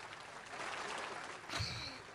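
Applause played from a phone soundboard, a thin, distant clapping that runs briefly before a low thump cuts across it.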